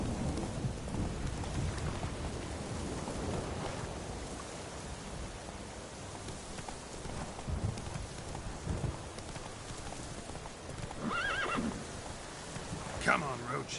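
Galloping hoofbeats from the horse Roach in The Witcher 3 video game, with game ambience and rumbling like rain or thunder, a brief whinny near the end, steady and moderate throughout.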